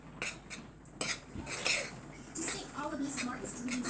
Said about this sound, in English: I'm going to also add my salt into the flour, like so. And I'm going to then mix